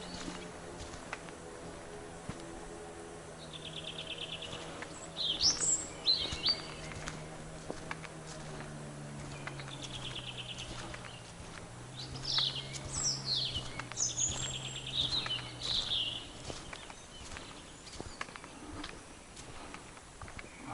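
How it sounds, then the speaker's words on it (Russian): Several birds sing in bursts of bright chirps and warbles from a spring riverbank, with a steady low hum running underneath throughout. "Птицы красиво поют."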